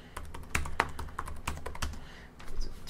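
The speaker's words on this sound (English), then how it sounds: "I'm just going to type the text source here." Quick, soft tapping on a Lenovo X1 Carbon laptop keyboard, an irregular stream of light clicks close by with no voices.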